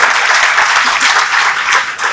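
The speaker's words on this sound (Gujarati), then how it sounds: "અશ્વિનભાઈને જોરદાર તાળીથી વધાવી" An audience at a Gujarati talk on books gives a loud, dense burst of applause, many hands clapping together close by for about two seconds.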